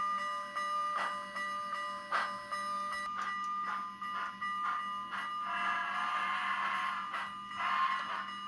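Kato N scale model train fitted with a LokSound decoder running a GS4 steam locomotive sound file, giving steady mechanical chuffing and rail-like hum with sharp whistle-like tones and bright bursts repeating throughout, fairly close and continuous.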